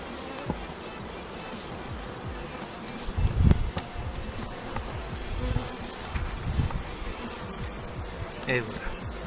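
Honeybees buzzing around an open beehive while a brood frame with young larvae is lifted out, a steady dense hum close by with occasional louder passes, and a voice talking softly over it.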